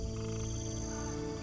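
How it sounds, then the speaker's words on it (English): Tree frogs in a large indoor vivarium ecosystem croak together in a steady, layered chorus of overlapping calls, continuous and close for the whole moment. "The tree frogs were awake and seemed to be able to tell something was happening below."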